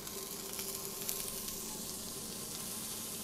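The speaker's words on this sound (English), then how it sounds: "we're going to fry it just for a minute or so on each side" Sea bass fillet frying in a hot pan, a steady close hiss of sizzling oil that stays even throughout, with no voices.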